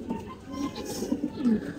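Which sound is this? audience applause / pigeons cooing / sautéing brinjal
pigeons cooing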